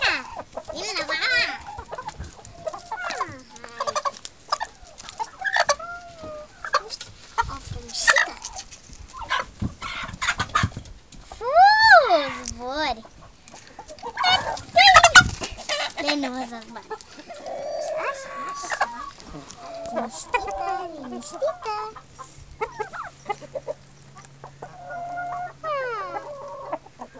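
Farmyard chickens cluck and chatter close by, with repeated rising calls and short clucks, while someone speaks softly to them in between.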